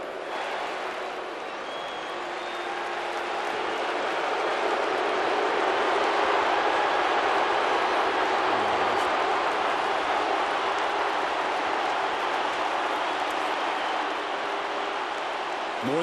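A packed stadium crowd of more than 100,000 at Ohio State versus Michigan in Columbus roars for quarterback Troy Smith, a dense, sustained wash of cheering that swells slightly and holds steady throughout.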